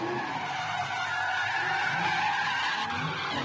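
A Pro Light drift car spins out behind another on the track in Emmett, Idaho, its tires skidding in a steady, loud, broadband hiss mixed with engine drone that runs unbroken throughout.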